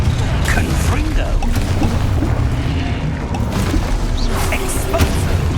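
A Confringo blasting spell goes off in Hogwarts Legacy amid busy combat, with loud, continuous booms, crashes and impacts layered together and shouting voices mixed in throughout.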